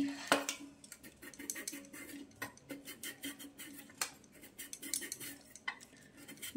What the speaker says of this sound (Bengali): চলো আলুগুলো আগে কেটে নিই। বটিতেই কাটছি।